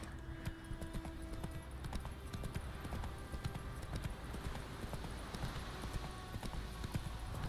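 Steady clip-clop of Roach the horse's hooves in The Witcher 3, a continuous trotting rhythm over a busy game soundscape with no talking.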